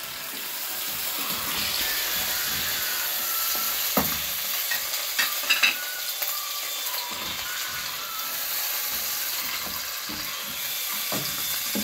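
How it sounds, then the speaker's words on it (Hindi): Steady sizzling and crackling of garlic and onions frying in a pan, with occasional scraping and stirring clicks, no voices. "अब लहसुन को अच्छी तरह फ्राई करूँगी प्याज़ों के साथ।"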